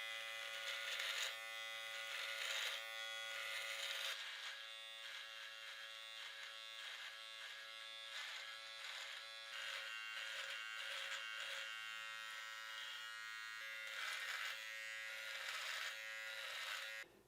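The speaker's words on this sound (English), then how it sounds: "use your Wahl trimmer to closely trim your cheeks and neck" A Wahl electric trimmer buzzes steadily while trimming cheek and neck hair for a horseshoe mustache, a close, continuous hum with slight shifts in pitch as it moves over the face.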